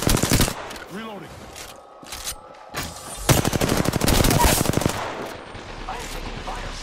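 Automatic weapons fire in an Apex Legends match comes in loud, rapid bursts of closely spaced shots with short pauses between them, mixed with game effects and brief character voice lines.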